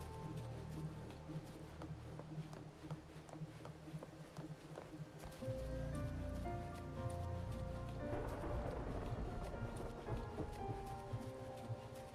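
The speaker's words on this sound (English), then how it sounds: "it's always raining over here." Steady rain in the video game Wuthering Waves hisses over a low rumbling backdrop that swells midway, with scattered tonal game-like sounds layered on top.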